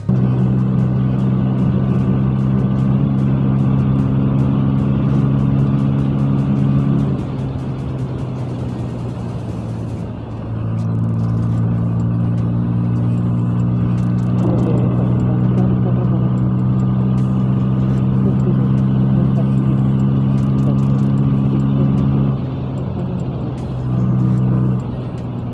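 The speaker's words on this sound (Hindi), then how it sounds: "क्या ही आवाज़ आती है इस बाइक से ना" A Bajaj Pulsar N160 motorcycle engine drones loudly and steadily while riding, with throttle swells and gear changes rising and falling throughout, close and continuous.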